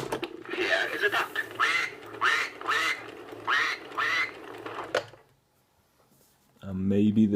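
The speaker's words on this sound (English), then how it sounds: "Here is a duck." A 1989 Mattel See 'n Say farm toy plays a run of five recorded duck quacks in a steady rhythm, close and clear, then falls silent before a voice speaks.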